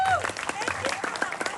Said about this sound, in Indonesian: Tepuk tangan buat masyarakat Abuan.